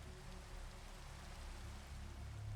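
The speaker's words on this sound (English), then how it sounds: "Oh, it started raining." Steady rain ambience in Minecraft, a soft even hiss of falling drops with a low rumble underneath, faint and continuous.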